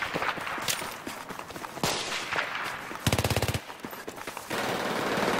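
Rapid bursts of FAMAS assault rifle fire in Battlefield 3, a fast rattling string of close, loud shots broken by short pauses, with scuffling footsteps and other combat noise around them.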